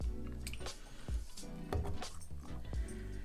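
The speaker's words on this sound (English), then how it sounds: "Drippy drip." Liquid drips and squishes off a pork cutlet held up before breading for a fried Milanese, with a run of soft wet patters and small splats close up, and no talking.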